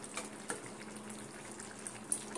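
Jackfruit and prawn curry boils in a pot with a faint, steady bubbling and occasional soft pops, heard close and alone.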